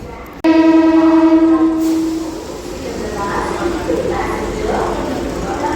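A DEMU train pulls out of Secunderabad Junction after a forty-minute delay. Its horn sounds loudly for about a second and a half near the start, then a steady rumble of the moving train follows under faint voices.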